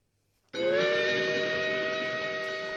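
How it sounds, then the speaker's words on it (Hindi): A cartoon train whistle sounds after a brief silence, a loud, steady, multi-tone steam whistle blast that holds for over two seconds with a slight hiss beneath it and no talking. "गाड़ी बुला रही है, सीटी बजा रही है।"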